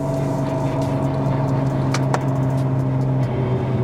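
A Porsche 911 Turbo (997.1) with upgraded 68mm turbos pulls in second gear, its engine giving a steady, loud droning hum heard from inside the car, with no voices.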